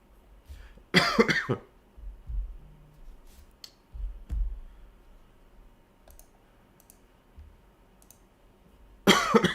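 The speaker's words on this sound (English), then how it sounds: "Still got that annoying little cough." A couple of sharp, harsh coughs burst out, one near the start and another at the end, with quiet clicks and faint thumps between them.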